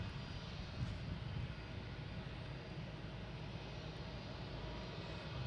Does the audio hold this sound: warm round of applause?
no